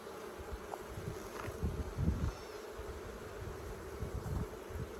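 Honey bees buzz steadily around an open hive of three medium boxes during an inspection, a low droning hum with small swells, close and continuous with no talking.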